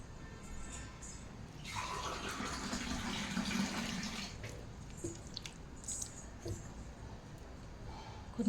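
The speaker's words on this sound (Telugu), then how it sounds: "కొంచెం వాటర్ వేసుకోవాలి" Water poured into a pan of butter paneer masala, a soft splashing pour that swells around the second and fourth seconds, then tapers into quieter drips and stirring sounds close by.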